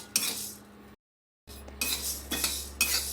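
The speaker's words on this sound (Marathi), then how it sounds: "म्हणून आपण याला असं हलवतच भाजून घेणार आहोत." Hemp seeds dry-roasting in a pan for an Uttarakhand chutney, stirred with a metal spoon: sharp clinks and scrapes in close bursts, a brief silent gap midway, then repeated scraping strokes with a low hum underneath.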